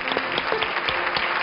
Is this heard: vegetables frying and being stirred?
no